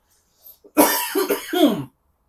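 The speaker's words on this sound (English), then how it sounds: "there's going to be a little coughing" A person coughs several times in a short, raspy burst, close to the microphone, with brief quiet before and after.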